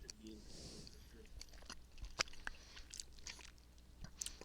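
Salted caramels chewed close to a microphone, with soft sticky smacks and sharp little clicks at an irregular pace, fairly quiet over a low background hum.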